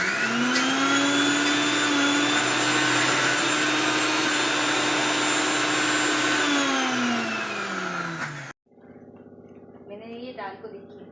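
A mixer grinder coarsely grinds soaked dal with a loud, steady motor whine for about eight seconds, then winds down and stops; a voice follows.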